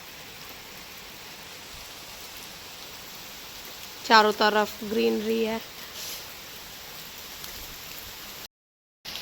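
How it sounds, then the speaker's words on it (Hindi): Steady rain hisses throughout, with someone speaking briefly in the middle over the downpour. "लगातार बारिश होगी आज।"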